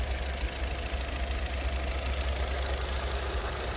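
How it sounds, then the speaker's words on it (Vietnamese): A Chevrolet car with an EcoTech engine and a six-speed gearbox idles steadily. A low, even engine hum runs without break throughout. "Máy nổ êm"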